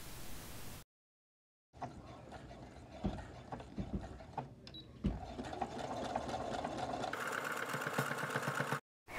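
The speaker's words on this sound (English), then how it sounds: "I've decided to use a zigzag stitch" A sewing machine runs a zigzag stitch across the top of a handle while making a reading pillow, whirring steadily in bursts with a brief pause, then a longer continuous run near the mic.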